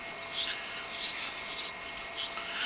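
A knife's bevel is set on a whetstone, tape still covering the blade, with steady rhythmic rasping strokes back and forth, close and even, about four or five passes with no talk.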